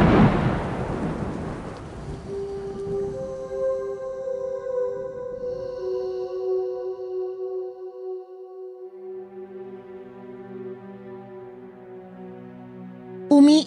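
Heavy thunderstorm with rain, a loud rumble of thunder opening and fading into steady rainfall, with tonal music sustained over it.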